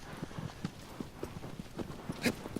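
Horse hooves clip-clop steadily in the video game Shadow of the Colossus, a regular trotting rhythm of sharp knocks at moderate loudness with some ambient game noise.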